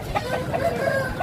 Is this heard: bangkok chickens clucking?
yes